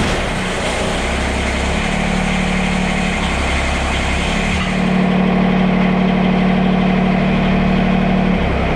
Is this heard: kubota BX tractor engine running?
yes